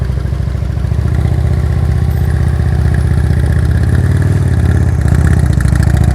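A motorcycle engine runs steadily at low speed during advanced slow-speed riding practice in Illinois, with a continuous mid-pitched drone and clatter that swells slightly toward the end, loud and close throughout.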